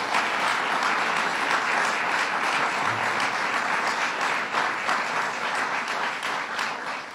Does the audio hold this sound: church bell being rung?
no